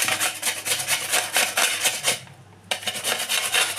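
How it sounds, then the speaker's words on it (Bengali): Potatoes being grated by hand on a kitchen grater, rapid rhythmic rasping strokes close to the microphone with a brief pause midway before the scraping resumes. "আমি আলুটাকে গ্রেট করে নিচ্ছি।"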